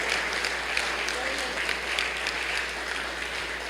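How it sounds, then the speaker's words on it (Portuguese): A church congregation applauds the actors after a performance during a service, an even roar of clapping from many hands at moderate volume, with a low steady hum underneath. "Vamos aplaudir os nossos atores aqui, não?"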